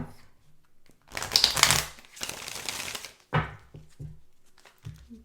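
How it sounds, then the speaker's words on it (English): Tarot cards shuffled in three quick riffling bursts, close and crisp, with brief quiet gaps between them. "we're going to get 3 shuffles from here"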